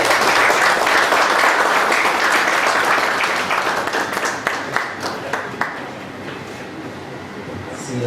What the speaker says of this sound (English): Can we have a round of applause for the